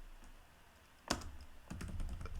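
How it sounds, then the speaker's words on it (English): Soft typing on a computer keyboard in a coding session, one sharp keystroke followed by a brief cluster of quieter clicks, close and low in level with no speech. "and then I will type python manage.py"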